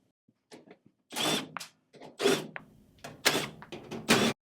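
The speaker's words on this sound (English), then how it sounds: "we'll start by removing these 4 screws here" A power driver removing screws from a Whirlpool or Maytag washer control panel, several short whirring bursts of the motor separated by pauses, close and clear with small mechanical clicks between runs.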